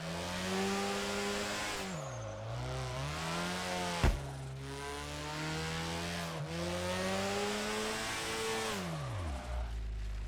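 A drifting car in the racing video game Drift 21, its engine revving up and down in loud, steady sweeps, with a sharp knock near the middle and a tire squeal mixed under the engine's whine.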